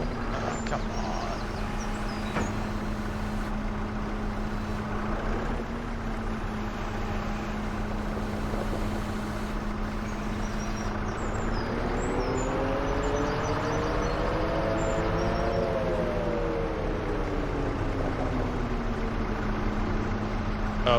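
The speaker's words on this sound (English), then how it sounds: "that's a truck running" Steady truck engine drone in the Farming Simulator 25 game on the Riverbend Springs map, a continuous low hum with a pitch that rises and falls gently midway, loud and unbroken throughout.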